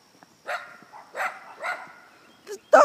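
A dog barks several times in short, separate bursts close by, ending with a louder, sharper bark.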